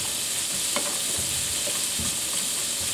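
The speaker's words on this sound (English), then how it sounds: "now going to get a spoon and give that a little mix around" A spoon mixing a sweet and sour sauce with chili powder in a bowl, producing soft scraping and clinking against a constant background hiss, with no talking.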